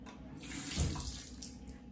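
Steady running water from a tap, a continuous hissing splash with no one talking.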